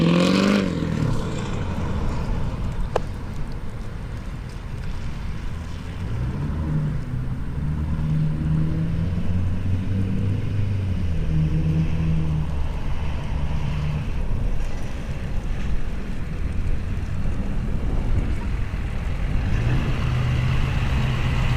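A Duramax diesel pickup drives slowly around a parking lot, its engine a steady low rumble that rises and falls with throttle over the run, close to the microphone, with wind buffeting and no voices.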